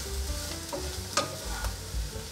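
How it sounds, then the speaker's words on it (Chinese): White beech mushrooms stir-fried in hot oil in a wok, giving a steady low sizzle with soft scrapes of the spatula and a couple of sharper clacks, close and without any talking. "给它炒软。"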